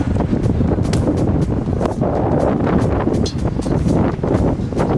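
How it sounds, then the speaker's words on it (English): Strong wind in Miami roars and buffets the microphone continuously, a loud broadband rush with gusty swells and no speech. "Very, very windy today."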